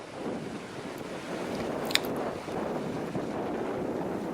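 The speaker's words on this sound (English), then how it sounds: "you got the water burbling away there" A river flowing over rocks near a bridge burbles steadily, a continuous rushing wash with wind buffeting the microphone and no voices.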